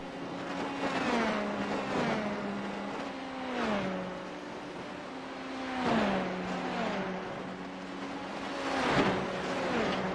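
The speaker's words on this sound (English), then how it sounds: "These are some noisy cars out here at Road America" Formula 3 race car engines in a racing video game whine and rev repeatedly at Road America, pitch dropping as each one passes, several cars streaming by one after another at a moderate distance.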